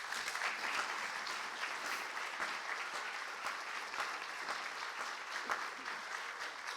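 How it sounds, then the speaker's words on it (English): Applause from an audience at a Riverside County board meeting, steady and fairly faint, with dense clapping from many people continuing throughout and no talk over it. "Give Jewel a round of applause"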